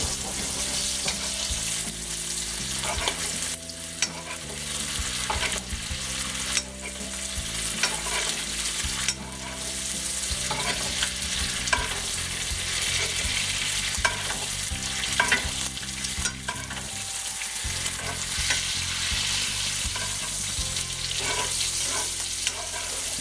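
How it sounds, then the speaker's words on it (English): Steak searing in hot browning butter with rosemary, a loud, steady close sizzle and spatter with frequent stirring and basting scrapes throughout. "that hot butter will continue the cooking process and really get a nice crust on the outside of that steak"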